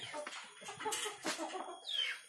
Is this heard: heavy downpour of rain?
no